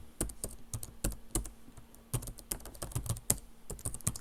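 Quick, uneven keystrokes clatter on a computer keyboard, close and soft, with short pauses between runs of typing.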